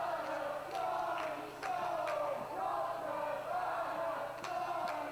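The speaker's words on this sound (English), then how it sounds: "You hear some fans cheering Johnny Storm, some fans cheering for Colt Cabana" Wrestling fans in a small hall chant in rhythmic, split waves for two competing wrestlers, voices rising and falling in repeated bursts with a few sharp thuds from the ring.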